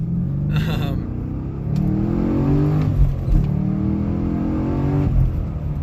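A 2013 Chevrolet Camaro 1LE engine revs and accelerates hard, rising in pitch through the gears with a loud, close rumble, and a voice speaks over it.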